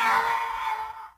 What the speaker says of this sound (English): Let's import the YODA death sound.